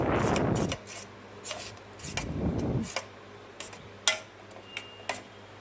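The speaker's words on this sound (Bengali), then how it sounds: "একটি চামচের দিয়ে আমি ব্যাটারের মধ্যে সব ভাজা সবজিগুলো ভালো করে মিশিয়ে নিয়েছি" A spoon stirs fried vegetables into a thick batter for a vegetarian breakfast snack, giving two long soft scraping, squelching bursts followed by a few sharp clicks of the spoon against the bowl, all close and without talk.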